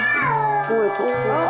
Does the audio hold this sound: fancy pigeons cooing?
no